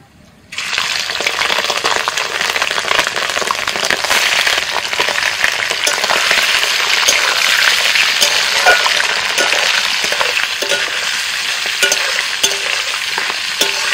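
Mutton pieces hit hot mustard oil with whole spices and fry with a loud, steady sizzle, stirred with occasional scraping clatter, close and continuous after a quiet start.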